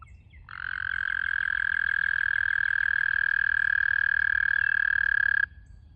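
A frog gives a single sustained trilling croak in the first chorus of the season, a clear, loud, near call that holds steadily for about five seconds before stopping abruptly over faint background hum.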